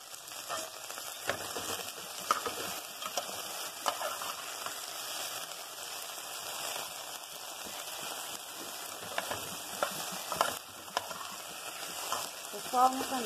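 Okra and bacon fry in a pan with a steady, soft crackling sizzle, broken now and then by small scraping stirs of the utensil, all fairly quiet and continuous with no talking.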